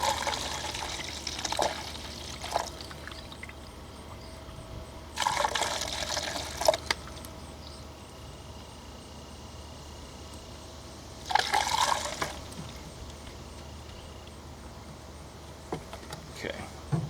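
Distilled water poured from a jug into a car's coolant reservoir, a quiet trickle with two louder gushing bursts of pouring a few seconds apart against a low background hum.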